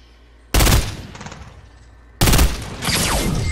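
Gunfire in the Fortnite video game comes as two sudden loud bursts of rapid shots, the second followed by sustained firing, with no voices over it.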